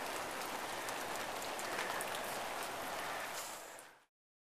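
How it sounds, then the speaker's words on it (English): Steady rain pounds down on a surface outdoors, a dense even hiss of drops that stays loud and close, then cuts off abruptly. "Let the rain pound that in, it'll be just fine."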